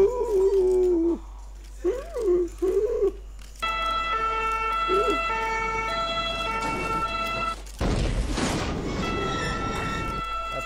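A wailing ambulance siren rises and falls, then holds steady tones under background noise, with a brief loud rush of noise near the end.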